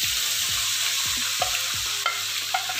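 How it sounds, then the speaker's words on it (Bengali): Hot oil tempering sizzles in a pan for jackfruit curry, a bright continuous hiss broken by regular scraping stirs roughly every quarter second, close and clear. "ফাইনালি এখন আমরা বাগারটা দিচ্ছি।"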